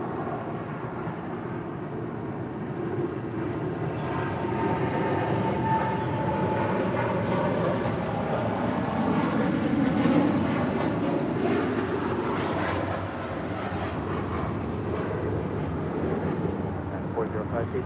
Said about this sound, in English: 787-10 Dreamliner, now rolling down, 25 right